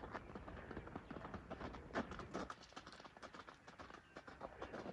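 A racehorse gallops past on open ground, its hoofbeats drumming in a fast, busy rhythm under steady wind and outdoor noise, fairly close and moderately loud.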